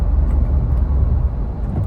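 Evening road traffic on the Noida Expressway, a continuous low rumble of passing cars and buses heard from within the flow, steady and fairly loud with no talking.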